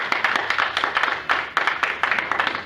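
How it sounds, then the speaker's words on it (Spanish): Church congregation clapping together in a steady, dense burst of applause, sustained and fairly loud throughout with rhythmic swells. "¿Cuánto le damos un aplauso al Señor?"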